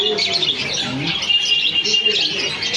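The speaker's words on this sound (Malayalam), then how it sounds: "പിന്നെ വേറെ എന്തോ ഒരു തത്ത പോലത്തെ കിളികളുണ്ട്, അതിൻ്റെ പേര് എനിക്കറിയില്ല" Parrot-like birds in a colour fish shop in Kozhikode chirp and tweet continuously at close range, a dense high twittering chorus with no talking.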